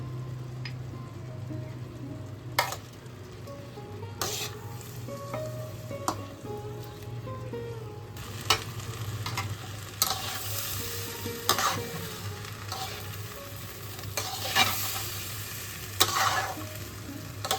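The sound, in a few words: rice and moong dal frying with turmeric and ginger paste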